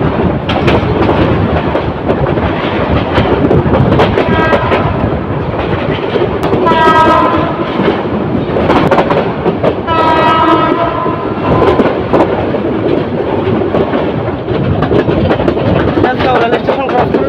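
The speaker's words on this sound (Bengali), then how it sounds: "ট্রেনটি ঢাকা এলিভেটেড এক্সপ্রেস নিজ দিয়ে যাচ্ছে, একটি বাক নিয়ে কিছুক্ষণের মধ্যে তেজগাঁও রেল স্টেশন ক্রস করে যাবে।" The Chottola Express, a passenger train from Dhaka to Chittagong, runs along the elevated line near Tejgaon station with a loud, continuous rumble and clatter, two horn blasts sounding in the middle. Someone talks over it.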